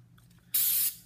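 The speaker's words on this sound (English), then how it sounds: "I will spray it down with a little bit of silicone spray" Silicone spray hisses from an aerosol can in one steady burst lasting under half a second, close and loud after a quiet pause, used on a leather holster before vacuum forming.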